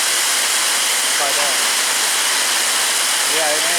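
Marble-size hail pounds down hard on an awning in a steady, dense roar of impacts that fills the whole stretch without a break.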